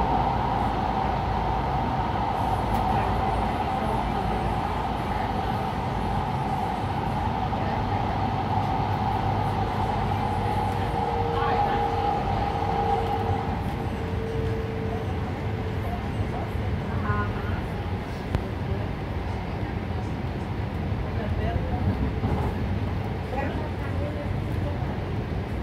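An LA Metro Expo Line train pulls into Sepulveda Station with a continuous rolling rumble and a rising and falling whine, while a recorded announcement voice talks over it.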